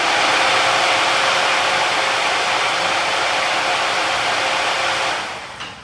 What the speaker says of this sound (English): That little fan's loud.